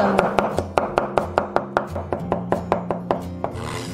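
Knife mincing smashed garlic cloves on a cutting board, quick even chops close up, about a dozen crisp strikes in a fast rhythm with no talk.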